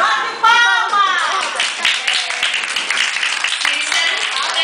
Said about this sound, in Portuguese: Bate palmas!